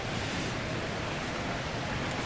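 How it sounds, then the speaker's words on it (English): A small waterfall in Dragon Age Inquisition, heard as a steady, even rush of falling water that stays broadband and continuous throughout, fairly close, with no voices. "We got us a little waterfall."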